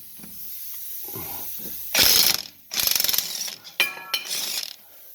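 A ratchet with a 17mm socket on a 1/2-inch drive loosens the front brake bolts on a 1998-2002 Honda Accord. It gives several loud, close bursts of rapid clicking separated by short pauses, with no talking.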